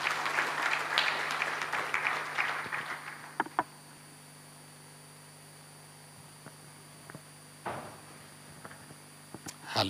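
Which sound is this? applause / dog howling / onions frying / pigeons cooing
applause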